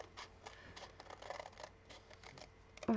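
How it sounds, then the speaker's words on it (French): Paper being cut with scissors while making a card from paper scraps: a few crisp, close snips and scrapes of the blades, quiet and alone, ending with a louder handling thump. "vous allez découper tout simplement votre papier sur le bord ici"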